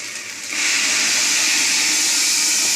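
Water poured into a pan of fried basmati rice for pulao sets off a sudden loud hiss of steam that swells after a quieter start and holds steady.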